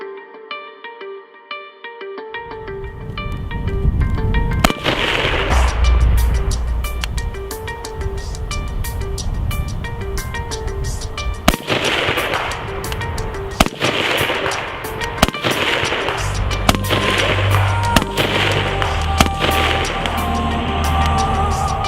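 A rifle fitted with a LEAF SSA-E trigger fires a long string of sharp, loud cracks at an outdoor range, some spaced apart and some in quick succession, over a constant rumble of wind and background noise.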